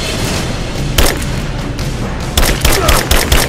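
Gunfire in the video game Rise of the Tomb Raider: a loud, sharp shot, then a rapid cluster of cracking bursts over a constant rumbling battle background, with no clear speech.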